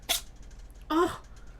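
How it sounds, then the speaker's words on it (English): Two quick sneezes from a small animal, close by, each a brief snorting burst separated by a short pause. "That was a big sneeze."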